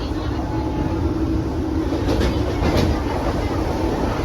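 A crowded passenger train carriage rattles and rumbles steadily along the rails, a continuous loud clatter with faint clicks and squeaks over the top.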